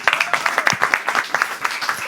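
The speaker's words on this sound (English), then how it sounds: "big applause, Marco" Audience applause for Marco at the Plan ₿ Forum 2023 Bitcoin conference in Lugano: a short burst of scattered, fairly close claps from a crowd, uneven in rhythm, lasting about two seconds.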